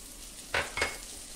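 Chopped garlic, ginger and green chilli hit melted butter in a hot pan, giving two quick, close sizzling bursts over a faint background hiss.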